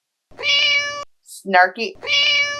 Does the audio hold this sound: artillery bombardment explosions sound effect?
no